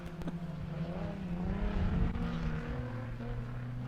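A race car at the 2019 4WP Every Man Challenge drives on the track with a droning engine whose pitch rises and falls, heard at moderate distance for a few seconds.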